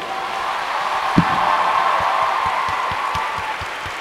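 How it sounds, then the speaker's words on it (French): An audience at a Japan Expo 2016 conference with manga author Hiro Mashima applauds, a steady wash of crowd noise with faint, evenly spaced soft thumps of rhythmic clapping and one sharper knock near the start. "Et vous pouvez l'applaudir."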